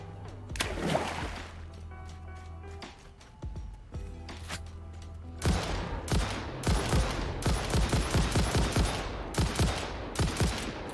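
Rifle shots in the video game Satisfactory, fired in a rapid, fairly even string of sharp cracks that grows denser over the second half, following a few isolated shots and humming background ambience.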